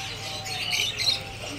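A pet pigeon resting calmly in its owner's lap gives soft, brief coos and chirps, close and quiet, over faint room noise with no talking.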